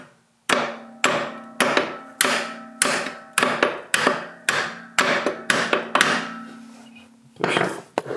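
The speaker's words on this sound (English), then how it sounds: "Now, take our favorite 2-pound hammer." About a dozen sharp, ringing blows from a 2-pound hammer drive a spring pin into a shaft on a John Deere tractor, in a steady rhythm, each one followed by a short decay.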